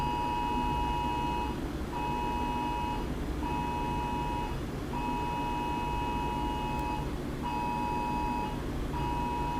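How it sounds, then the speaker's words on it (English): An alarm beeps in an evenly repeating pattern of short, pure tones with brief gaps, steady and moderately loud over a constant background hum. "not sure what that alarm is about."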